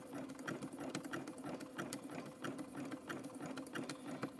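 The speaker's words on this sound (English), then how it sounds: "now we can finish stitching to the other side" A sewing machine stitches a coiled rope bowl in a steady rapid chatter. It runs close but quiet and unbroken, with no voices.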